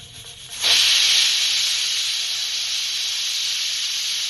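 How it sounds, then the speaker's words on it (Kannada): A pressure cooker of jackfruit and mushroom biryani on a medium gas flame bursts into a loud, sustained steam hiss that starts abruptly and keeps going without a break. "ಈಗ ಮೀಡಿಯಮ್ ಉರಿ ಒಳಗೆ 1 ಸೀಟಿ ಅಷ್ಟೇ ಬರಬೇಕು"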